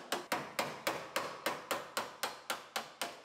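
Cut metal pieces being hammered out of the frame rail of a 2015 GMC Terrain Denali, twelve sharp, evenly spaced metallic knocks at a steady rhythm, close and loud with short ringing decay and no talk.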